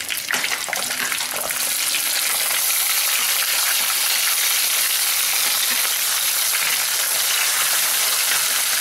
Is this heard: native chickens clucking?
no